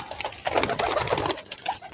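Domestic pigeons cooing softly at close range in a home loft, a steady run of low throaty coos with a few brief pauses, no talking.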